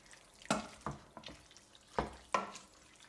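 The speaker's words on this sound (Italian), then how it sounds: "andiamo a rimestare" A pot of ragù alla bolognese with plenty of meat being stirred, a series of distinct wet scraping strokes at irregular intervals, fairly close and moderately loud over a quiet background.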